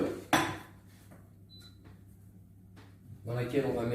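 A saucepan clanks and rattles in a kitchen, with a sharp metal knock, a few lighter clinks and handling noises, followed by someone talking.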